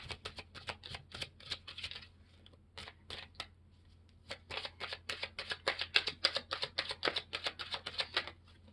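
Tarot cards riffle and flick in rapid bursts of crisp, papery snaps, close to the microphone, with a short pause midway before a longer, denser run of shuffling; no one talks.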